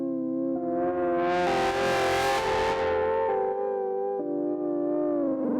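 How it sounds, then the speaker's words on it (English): A mellotron-style sustained synth chord run through a tape engine effect, warbly with wow and flutter, slightly driven with added gain and hiss, changing chords every second or so at steady loudness with no talking. "it's giving it this kind of warbly, slightly driven, the flutter's down, but the wow is up"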